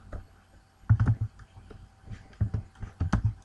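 Keys clatter on a computer keyboard during MATLAB work, falling into two quick bursts of close, crisp clicks with short pauses between them.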